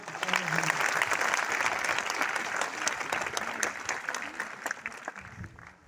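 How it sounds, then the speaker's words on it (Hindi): Sustained applause from a seated audience at a government polytechnic ceremony in Buxar honouring students, dense and steady for several seconds before thinning out near the end, with a voice faintly underneath. "सभी लोगों से आग्रह है कि एक बार ताली बजा के उनका जो है"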